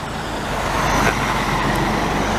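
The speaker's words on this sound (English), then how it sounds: "Oh, I think I hear a nice truck coming." A Western Star truck passes on a city street in Montreal, a loud, steady broadband engine and road roar that swells slightly as it goes by amid surrounding traffic.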